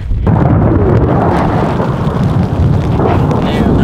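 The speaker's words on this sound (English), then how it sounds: "The storm's a brewing." Thunder from an approaching storm while backpacking at Mount Assiniboine, a loud, continuous low rumble that rolls on for several seconds with wind buffeting the microphone.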